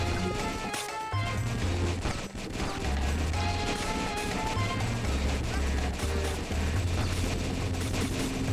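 Turret gunfire in a penguin-defending video game: dense, continuous rapid shooting and crashing impacts, steady and loud throughout, with faint voices underneath.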